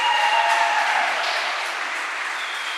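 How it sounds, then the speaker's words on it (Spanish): A church congregation applauds during a Sunday service, a full, dense roll of clapping from many hands that starts strong and eases off slightly toward the end, with no talking over it. "sí, si lo va a aplaudir, apláudalo"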